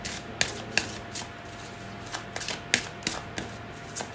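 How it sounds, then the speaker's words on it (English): Deck of cards being shuffled up close, a series of irregular crisp riffles and snaps with short pauses between bursts, fairly quiet with no talk over it. "let's shuffle more cards and see what do we need to hear right now"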